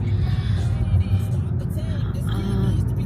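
A car approaches and rumbles past on a road in an industrial area of warehouses, a steady loud engine and tire roar over a few seconds.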